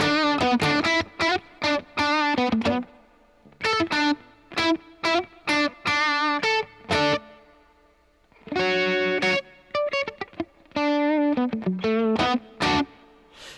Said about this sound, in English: Gonna put that on spring for the surf sound.